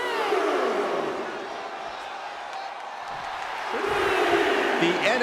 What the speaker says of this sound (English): He wants this crowd on their feet. He wants them to make some noise.